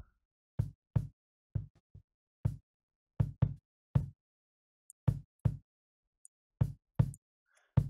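Isolated kick drum hits from a live drum kit being mixed through a gate and EQ, landing as sharp, punchy low thumps in an irregular pattern of about fourteen strikes, close and dry with silence between.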